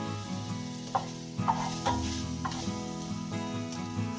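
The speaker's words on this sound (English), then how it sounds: "Preheat the cooking pot over high heat with 2 teaspoons oil. Hang on a few seconds, add garlic." Garlic sizzling in hot oil in a cooking pot preheated over high heat, a close, continuous crackle with several sharper stirring scrapes spaced through it, no talk.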